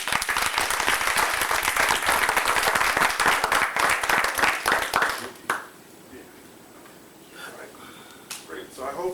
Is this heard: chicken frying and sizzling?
no